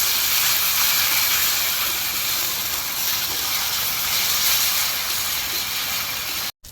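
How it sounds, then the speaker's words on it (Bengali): Ginger, garlic and green chilli paste sautés in a pan for a potato curry, giving a steady, loud, close hiss that cuts off abruptly at the end. "এটা দিয়ে 2 থেকে 3 মিনিট এভাবে কষে নিতে হবে।"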